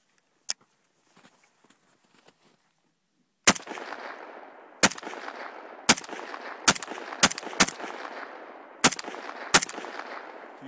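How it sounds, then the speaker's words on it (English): An AKM rifle fires with its receiver cover removed, a faint pop followed by about eight loud, sharp single shots at uneven intervals, each trailing off in a broad ringing tail. "Firing with the receiver cover off."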